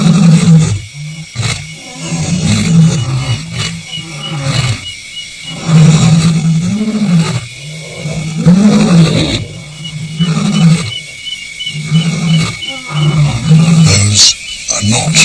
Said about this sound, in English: Those are not aggressive roars, they are communication roars